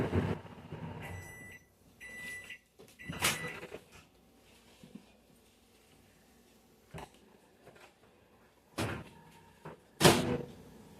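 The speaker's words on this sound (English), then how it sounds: "now I'm going to toss this in the microwave for a minute" A microwave door clicks and thumps shut, followed by beeps and a quiet hum, then more door knocks and clatter nearby, no talking.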